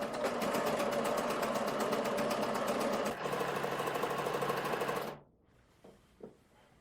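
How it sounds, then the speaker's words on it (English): A sewing machine stitches a seam on fabric pants, a loud steady rapid mechanical whir running for about five seconds before stopping abruptly, followed by a couple of faint clicks. "And now I can sew all of this together in one go."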